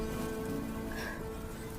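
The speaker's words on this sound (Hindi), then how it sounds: "बेटा, इस बारिश का कोई पता नहीं कब बंद होगी।" Rain falling in a Hindi cartoon about a little bird, a steady, dense patter of drops on a surface that continues without a break, fairly loud and close, with no voices.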